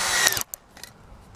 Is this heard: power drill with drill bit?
yes